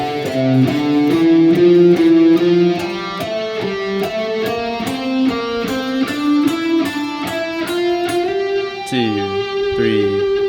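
Overdriven electric guitar plays three runs back to back at a slower tempo, steady picked notes over a ticking beat, finishing with wide wavering bends near the end, close and prominent with no talking.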